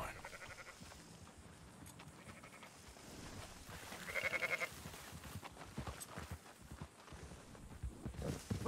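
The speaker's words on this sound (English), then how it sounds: "Marston, why don't you leave the sheep to me?" Sheep bleat in the open countryside of the video game Red Dead Redemption 2, several separate calls rising over a steady ambient bed of hooves and outdoor game sound, moderately close and without talk.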